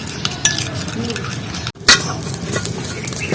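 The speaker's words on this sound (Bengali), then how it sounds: "একটু বেশি জাল বেড়ে গেছে তার জন্য আমি ঘন ঘন এটা নাড়িয়ে নিচ্ছি" Leaves fry in a pan on heat turned up too high and are stirred often, making steady scraping spoon strokes over a continuous sizzle, close and fairly loud, with one brief dropout midway.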